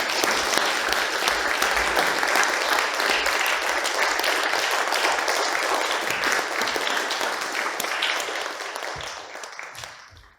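An audience gives loud, sustained applause to welcome the members of a string quartet onto the stage at a community lecture concert, with dense, even clapping that fades away toward the end.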